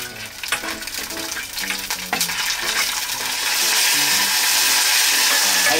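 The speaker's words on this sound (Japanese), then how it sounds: "生姜とニンニクの香りが出るまで炒めます" Ginger and garlic stir-fry in a pan over low heat, a steady sizzle that swells louder partway through, with scattered clinks and scrapes of stirring early on.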